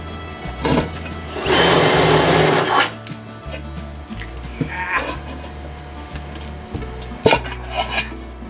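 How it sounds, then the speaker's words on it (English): A pry bar works a tire onto a rim of a 1986 Oldsmobile Ninety Eight Regency, with squeaky rubber stretching, a long grinding scrape and scattered metallic knocks and clicks up close, no talk. "Take your pry bar, slip it over the rim, and start working it around."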